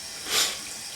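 Tap water runs briefly into a small sink during hand rinsing, a soft hissing splash that swells and fades within a second.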